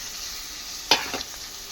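Freshly picked brinjal fries in a pan, a soft sizzle with a brief scrape of stirring near the middle, close and fairly quiet.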